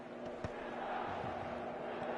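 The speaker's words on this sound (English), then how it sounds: "The stadium is full of noise and energy." Full stadium crowd in an eFootball match, a steady dense roar of many voices with a low constant hum throughout and a couple of brief sharper shouts or thuds standing out near the start.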